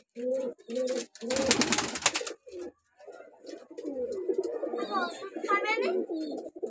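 Pet pigeons coo in low, rounded, repeated bursts close by, broken by a loud rush of flapping wings and mixed with a person's talking.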